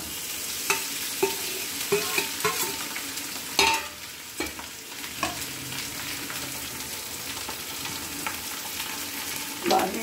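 Salted potatoes sizzle steadily in a hot pan for a fasting dish, while a spoon stirs and scrapes now and then with occasional clacks against the pan, close up and without speech.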